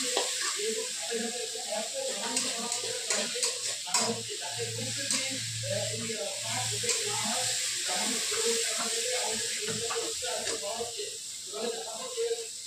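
Spices frying with turmeric in a wok, a steady sizzle and hiss with repeated scraping stirs of a spatula against the metal, as the mixture begins to stick, with people speaking throughout.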